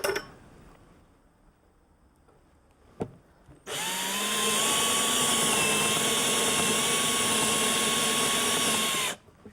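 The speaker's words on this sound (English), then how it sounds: "And now I can drill with confidence, knowing that I'm not going to overdo it." A power drill bores into wood while carving a simple coat rack, running steadily and loudly for about six seconds after a faint tap and near-silence, then stopping abruptly.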